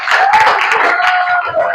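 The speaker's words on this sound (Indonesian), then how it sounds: "Tepuk tangan." A classroom of students applauds together after group presentations in an Islamic religious education lesson: a short, loud, dense burst of clapping that fills the room without pause.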